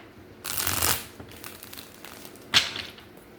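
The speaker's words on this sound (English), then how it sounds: "Let's shuffle." Tarot cards are shuffled close by in two short, crisp riffling bursts separated by a quiet pause, with no talking.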